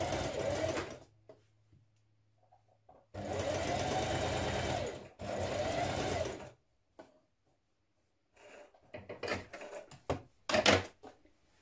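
A sewing machine stitches a dart on a New Look 6347 dress, running close up in three bursts: a short run, a longer steady run, then another, with quiet gaps and light clicks and handling noises afterward.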